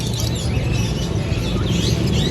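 Many caged birds, pigeons among them, chirp and call at a busy bird market, their tweets thick and constant within loud, dense crowd and market noise.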